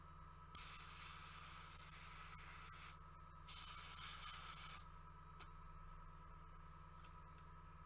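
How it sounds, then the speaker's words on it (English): Paint hisses from an airbrush onto a Thousand Sons Land Raider miniature tank in two quiet bursts of a few seconds each, with brief clicks and a steady low hum between them. "So I want to make sure that I'm spraying away from the rest of the tank."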